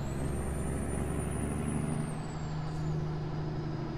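A heavy truck in American Truck Simulator drones steadily as it works up through its gears, with a constant low engine rumble and a faint high whine that climbs, holds, then drops away.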